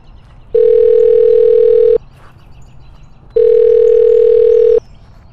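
Telephone ringback tone inside the Sakura School Simulator game: two loud, steady buzzing rings about one and a half seconds each, separated by a short quiet gap over a faint background hum.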